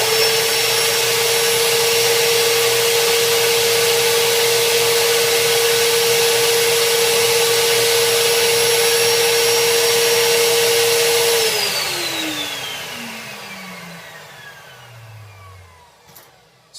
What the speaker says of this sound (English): I turn the vacuum on. It's going to get quite loud because this is quite a powerful vacuum